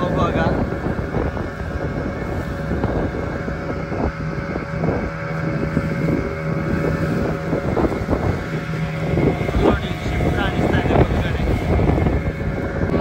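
Motorboat engine droning steadily on a fishing trip at sea near an estuary mouth by Malpe, with wind buffeting the microphone and a continuous broadband rumble throughout.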